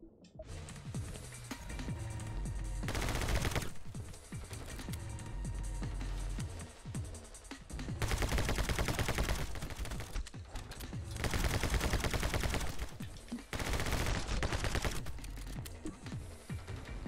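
Rapid video game gunfire crackles in dense bursts for most of the stretch while a player dodges bullets, loud and continuous with brief lulls between volleys.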